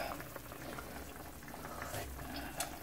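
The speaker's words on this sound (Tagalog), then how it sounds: "Pakukuluan natin ito for 30 minutes hanggang lumambot ang chicken." A pot of chicken tinola soup boiling, its steady close bubbling and gurgling running throughout with a few brief louder pops.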